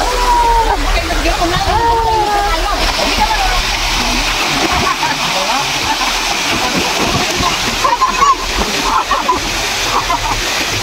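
Water splashes and sloshes in a rocky stream pool, a constant close wash of moving water with people talking and calling out over it throughout.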